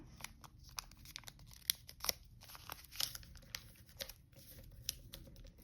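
Origami paper being folded and creased by hand, a quiet close series of crisp crinkles, rustles and sharp snaps in an irregular rhythm with no talk.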